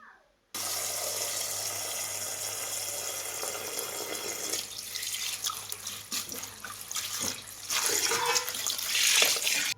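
Chigal leafy greens being washed under a running kitchen tap, a steady close rush of water with splashing and dripping that shifts as the leaves are moved about in the sink.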